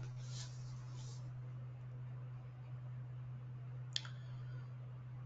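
A single sharp computer mouse click sounds once, close and brief, over a steady low electrical hum in an otherwise quiet room.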